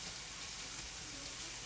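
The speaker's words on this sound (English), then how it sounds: "So we got our veggies in here. We're just gonna kind of saute them around." Vegetables sautéing in a pan for orange chicken, a soft, brief sizzle heard up close and fairly quiet, with no talking.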